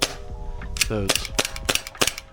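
A Glock 45 airsoft gas blowback pistol fires about six sharp, close shots in an uneven sequence, each a crisp snapping crack of the slide cycling, with a brief metallic clink between them.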